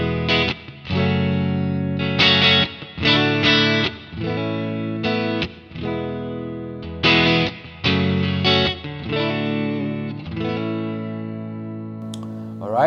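Clean electric guitar through a Fender Deluxe Reverb amp model on an IK Multimedia Tonex One, played as a run of loud strummed chords in short repeated phrases with brief gaps, ringing out with a light reverb tail and no talking.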